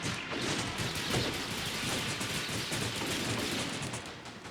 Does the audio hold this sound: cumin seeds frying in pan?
no